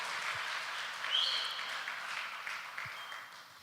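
A church congregation applauds during a sermon, a soft, steady wash of many hands clapping at a distance, fairly faint and continuing throughout.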